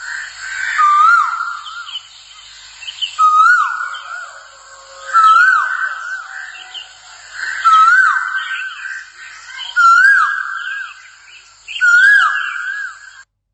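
A male koel (cuckoo) calls repeatedly, about six loud, clear rising whistles spaced a couple of seconds apart, close by and alone without any speech.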